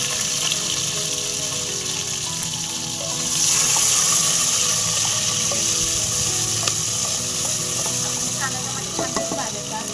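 Steady sizzling and crackling of cumin and mustard seeds frying in hot oil, close and continuous, briefly swelling louder before settling back to a crisp hiss.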